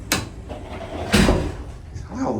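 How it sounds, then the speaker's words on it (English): Door of a vintage 1967 ESCO hydraulic elevator at Gulfway Plaza in Houston, slamming shut in two sharp, loud bangs about a second apart, with faint room noise between them. "loud the door slams."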